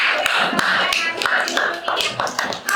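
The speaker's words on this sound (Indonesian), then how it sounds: "Ayo tepuk tangan untuk kelompok Hasim Ashari" A classroom claps for a presenting student group, with sharp, irregular claps and taps close by and a voice speaking over them.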